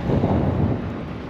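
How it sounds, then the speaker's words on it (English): Wind buffets the microphone outside a police station in a brief, loud, low rumbling gust. "bit windy today"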